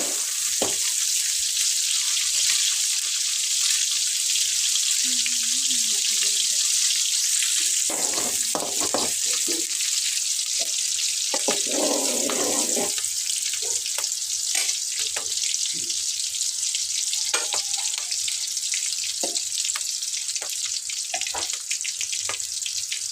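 Onions, green chillies and curry leaves fry in hot oil with a loud, continuous close-up sizzle that lasts throughout, with brief clinks and stirring noises and faint voices in the background.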